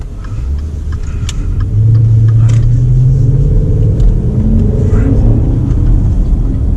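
Maserati Quattroporte GTS engine pulling hard while driving, a loud steady low rumble that swells as the car accelerates, heard from inside the cabin.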